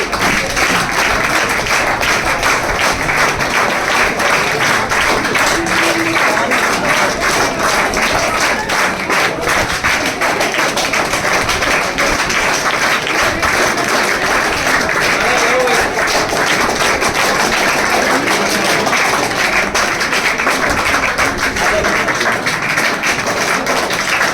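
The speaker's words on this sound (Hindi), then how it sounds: "पवन की माँ आगे पधारे, ताली बजा दो, आगे ताली बजा दो।" Sustained applause for an honored student's mother at a coaching class felicitation, loud and continuous clapping from a close crowd with an even, unbroken texture throughout.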